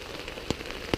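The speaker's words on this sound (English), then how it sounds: "Like I said, it's pouring down rain." Heavy rain pouring down while hiking through the Smokies, a dense steady hiss of drops on surfaces with two sharper, louder drip impacts standing out near the end, close by and without talk.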